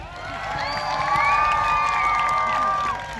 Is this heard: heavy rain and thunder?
no